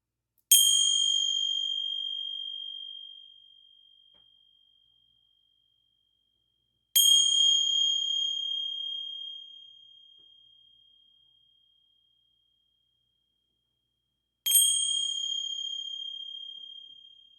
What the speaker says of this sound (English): I'm back to the church bells.